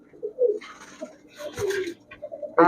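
High-flyer Giribaj pigeons in a small shop give soft, intermittent coos, fairly faint, between brief stretches of people talking nearby and some handling noise.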